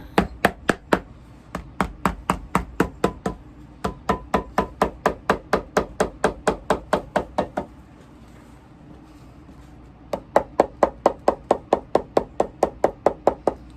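Steady, rapid hammer blows ring out close by in long runs of even strikes while resoling Ferragamo flats, pausing briefly before resuming at the same brisk rhythm.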